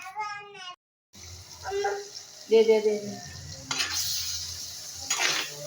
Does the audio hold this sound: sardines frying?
yes